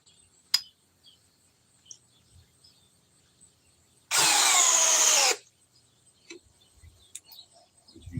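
A power drill whirs in one loud burst of a little over a second, standing out against a quiet room with faint ticks and small knocks before and after.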